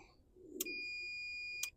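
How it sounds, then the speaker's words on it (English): A multimeter continuity test on a lowrider switch: a single steady electronic beep, high and pure, sounds for about a second after a soft click, then cuts off. "it goes beep."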